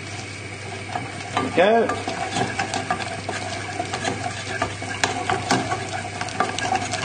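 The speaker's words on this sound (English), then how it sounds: "just keep stirring and breaking it up, and then repeating this process" A spoon stirring fish pie sauce made with milk in a pan, scraping and sloshing steadily close by, with a couple of sharper clinks against the pan; a voice speaks briefly.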